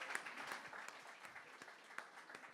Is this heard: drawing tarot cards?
no